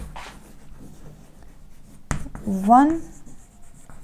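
Pen writing out a class 10 maths solution by hand, faint scratchy strokes in short bursts, close up, with a sharp tap partway through and a voice speaking over it.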